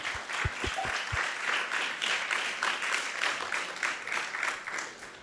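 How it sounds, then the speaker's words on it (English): An audience applauds during an evening talk and feast, steady dense clapping that holds at an even level throughout, with a few low thumps near the start. "Let's give them a big round of applause as well."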